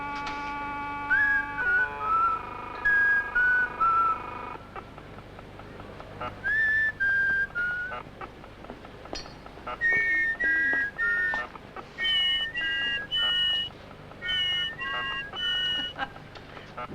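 A man whistles a few short, wavering phrases, loud and close, between pauses, with a faint low hum beneath.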